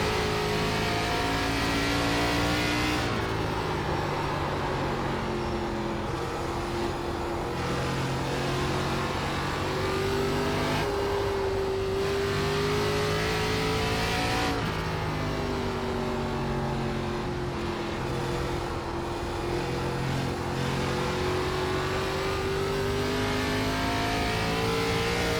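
Simulated stock cars in an iRacing Grand National race at IRP drone steadily at close range through a late lap, their engine note rising and dipping through the gears with no pause.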